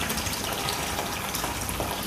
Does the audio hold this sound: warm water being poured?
yes